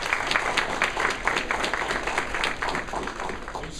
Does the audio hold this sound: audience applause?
yes